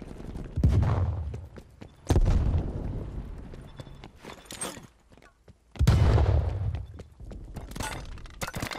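Several loud, sharp booms and bursts of gunfire in a Call of Duty Black Ops Cold War team deathmatch on the Moscow map, with a frag grenade blast among them and faint gameplay clatter between hits.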